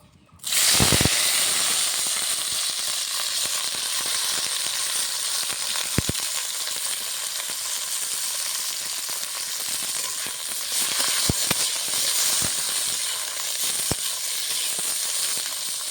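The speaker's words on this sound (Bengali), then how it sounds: "কড়াইতে সর্ষের তেল দিয়ে দিয়েছি, ভেন্ডিটা আমি আগে ভেজে নেব।" Loud, continuous sizzling of okra frying in hot mustard oil in a kadai, with occasional sharp pops and crackles over the steady hiss.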